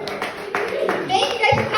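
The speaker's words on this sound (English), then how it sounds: "Thank you guys for clapping" Comedy show audience at Eraser Records clapping briefly in scattered bursts, loud and close, with a performer talking over it.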